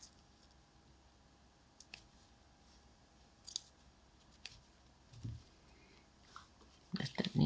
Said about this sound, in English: And then just cut that off.